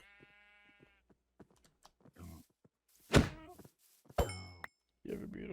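A baby sheep bleats in Minecraft, a short wavering cry at the start followed by scattered clicks and thuds, with louder voice-like bursts and bleats later, close and fairly quiet.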